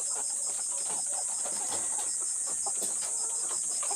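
Layer hens cluck and murmur in a poultry house, soft overlapping calls over a constant high-pitched hum of background noise, with no talking.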